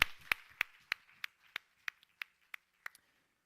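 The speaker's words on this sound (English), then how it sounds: "I will also propose applause for this one too" A short run of about a dozen separate claps, evenly spaced and slowing slightly, crisp and fairly quiet, from a single pair of hands rather than a crowd.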